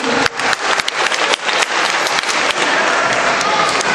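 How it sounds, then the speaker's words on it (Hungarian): An audience at a village carnival costume show breaks into loud, dense applause, a continuous wash of many hands clapping close by, with a voice faintly heard beneath. "Kérjünk egy nagy tapsot neki."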